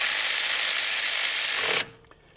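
A ratchet or power tool tightening down a part during car air-conditioning removal and replacement, a loud continuous buzzing whir that runs for nearly two seconds, then cuts off abruptly into quiet.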